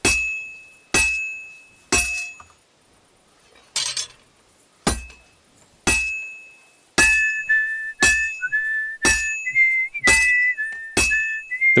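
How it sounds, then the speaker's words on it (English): Blacksmith hammer strikes on an anvil ring out in a steady rhythm during forging in Kingdom Come Deliverance 2, and partway through a sustained wavering whistled tune joins the clanging beats. "The whistling's there to try and give you a rhythm to beat it to."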